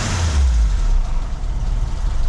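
A Mercedes-Benz W123 230E petrol engine, just repaired after a fuel distributor fault, runs in a low steady rumble close by during an engine test, idling slightly low with a deep throb and no speech.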